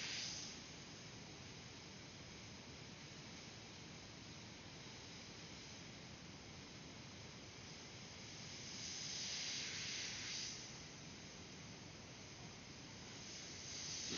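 An airbrush sprays paint over a stencil while a Kobe Bryant portrait is being painted, giving a faint, steady hiss throughout that swells slightly in the middle and again at the end.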